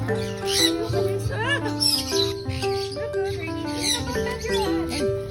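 A pet bird chirps and tweets in short, bright calls, fairly close, through a busy room with a television or music playing and people talking nearby.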